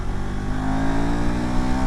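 A 2025 KTM ADV 390 X Plus adventure motorcycle pulls hard under acceleration, its engine note rising loud and close in a steady continuous drone with layered harmonics.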